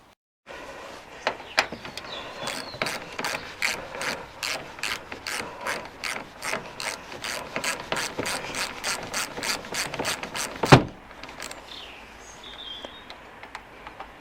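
Ratchet wrench loosening bolts on a Nissan Juke rear door, rapid repeated clicking strokes in steady bursts, close and clear, ending with a sharp metallic knock as a bolt breaks free; no talk.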